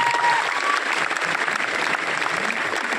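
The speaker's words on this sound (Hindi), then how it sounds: "मैं चाहूंगा बड़े भैया के लिए एक बार जोरदार ताली।" Audience applause fills a hall, sustained, dense clapping at steady loudness throughout, no voices over it.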